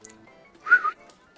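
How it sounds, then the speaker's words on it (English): A person whistles a short two-part tune, a brief clear whistle in a quiet room. "But I can whistle."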